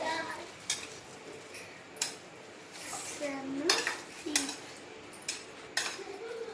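Spoon clinking and scraping against a metal pot while mixing water, with irregular close taps and swirls through a few seconds of soft background.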